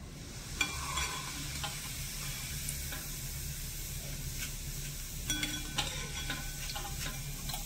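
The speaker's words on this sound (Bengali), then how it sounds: "তো বাদ বাকি সীতাভোগ মিষ্টিগুলো ঠিক আমি একইভাবে ভেজে নেব।" Semolina sitabhog sweets frying in oil. A faint, continuous low sizzle carries crackly bubbling, with occasional stirring clicks. The sound is quiet and somewhat distant, and there is no talk.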